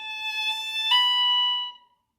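A single sustained violin note played cleanly, with a bright ringing ping as a finger bounces onto the string partway through, then fading out to silence; no talking.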